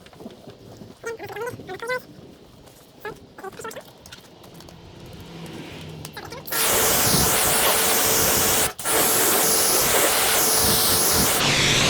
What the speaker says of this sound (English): Allow a few seconds to bond and then rinse it off.